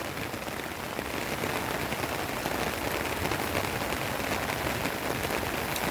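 Heavy rain from Typhoon Crising pours down steadily beside the flooding Caligayan River and a cornfield, a loud, unbroken hiss with no voices.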